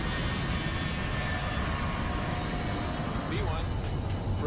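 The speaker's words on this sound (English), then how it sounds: "With just 5 minutes to spare, they're given clearance for takeoff." Donald Trump's private plane, a large jet, spooling up on the runway for takeoff, a steady loud engine roar that holds throughout with a faint voice over it.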